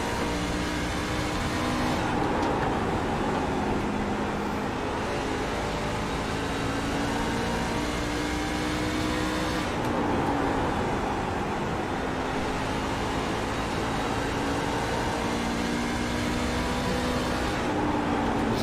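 Race truck engines held at full throttle during Daytona 500 practice at Daytona, a steady loud droning roar with a sustained pitch that dips briefly as laps continue.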